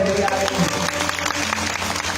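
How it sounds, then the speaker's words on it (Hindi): An audience at a Bhagavat katha gathering at a temple claps in welcome, scattered applause mixed with voices and background music. "सब लोग स्वागत करो, ताली तो बजाओ।"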